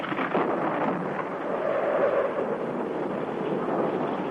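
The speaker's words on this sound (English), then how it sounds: "New York City under the pounding of a North Atlantic storm" A steady roar of storm wind rumbles throughout, heavy and continuous, with a low thundery rumble swelling in the middle.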